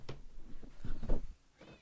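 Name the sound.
cat meowing, upset and wanting to be let out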